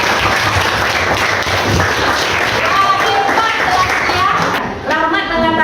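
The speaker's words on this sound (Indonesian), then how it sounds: "tepuk tangan untuk Rahmat." A class of students claps for a classmate in a classroom lesson, loud sustained hand clapping with voices chattering over it, tapering off near the end as talk continues.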